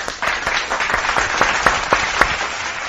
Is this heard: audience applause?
yes